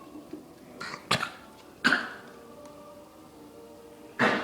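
A dog coughs and hacks in a few sharp, separate bursts spread through a quiet indoor moment, with no talking.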